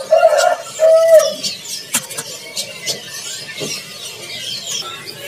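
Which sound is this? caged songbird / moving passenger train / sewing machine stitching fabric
caged songbird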